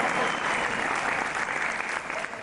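A television studio audience applauds in a sustained, even wash of clapping that stays loud throughout, with no talk over it.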